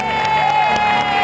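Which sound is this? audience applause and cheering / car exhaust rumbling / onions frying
audience applause and cheering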